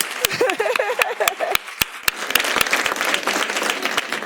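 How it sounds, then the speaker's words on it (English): Audience applause at a Black History Month celebration, starting with a few loud individual claps while a voice speaks briefly, then swelling into fuller crowd clapping with distinct sharp hits. "That deserves a clap."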